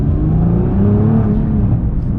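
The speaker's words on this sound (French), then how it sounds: "on met un petit coup d'accélérateur, tout de suite, on se sent poussé avec le bruit du moteur, les pots d'échappement" A Nissan GT-R Nismo's engine and exhaust build under acceleration, a loud, close, rising growl heard from inside the car and held for a couple of seconds.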